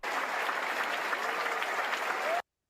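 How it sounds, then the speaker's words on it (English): An audience applauds a conductor and band arriving on stage, a dense, continuous burst of clapping that holds at full strength before cutting off abruptly. "what they're all applauding for is that the conductor and the band are on stage"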